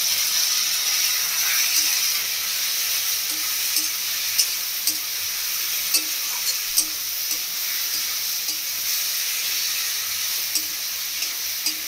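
Ginger, garlic, green chilli and pepper paste fries with green banana and potato in a pan, giving a steady, even sizzle with occasional soft stirring taps throughout, no voices.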